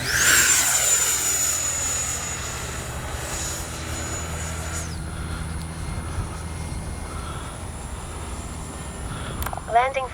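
An FMS 70mm Yak-130 RC jet model, electric ducted fan, flying near and steady through landing approaches with flaps, its whine fading then lingering, with talk underneath.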